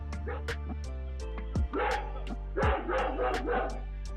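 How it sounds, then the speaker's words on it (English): A ferocious dog guarding a house barks repeatedly at a postman in France, several sharp close barks with short yips and whimpers in between, over a steady hum of background music. "This French postman came face to face with a ferocious dog."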